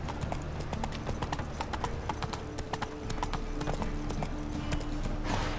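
Horse galloping in The Witcher 3 video game, with rapid, rhythmic hoofbeats drumming continuously and loudly throughout, layered over a low ambient game backdrop.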